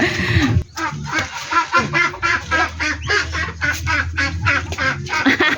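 Many small quacks and peeps from young ducks, rapid and overlapping, close by, with faint human voices now and then.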